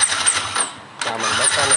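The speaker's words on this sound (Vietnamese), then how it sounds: "Rồi giờ để mình nổ máy lên anh em ơi, để mình nổ máy lên nha. Mình bóp con nổ máy lên," A Yamaha Exciter motorcycle with a high idle and a heavy stutter under throttle starts up close by. The engine dips briefly, then catches again and runs loud and steady.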